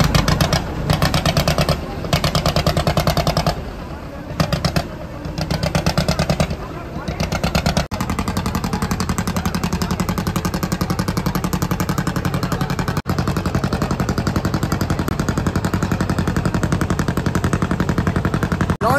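River launch ferry engine running on the way to Mayapur, a loud, close, rapid mechanical chugging with a fast regular beat, briefly cutting in and out early on, then settling into a continuous drone.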